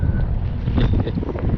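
Wind buffets the microphone aboard a small fishing boat at night, a loud, rough rumble with gusty swells through the short stretch and no talking.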